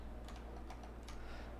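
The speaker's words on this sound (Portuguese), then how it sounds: "vocês digitam o número e dão Enter" Soft, quick key taps on a computer keyboard entering numbers into an Excel spreadsheet, a handful of clicks over a low steady hum.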